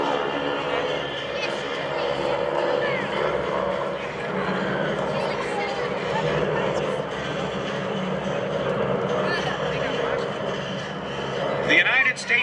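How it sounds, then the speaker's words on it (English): AT-6 (SNJ) advanced trainers flying in formation at an air show give off a continuous loud propeller-engine drone with a rough rumble. Someone narrates over the engine noise throughout, with a brief louder swell near the end. "The United States Army Air Force called this aircraft the AT, Advanced Trainer 6, the AT-6."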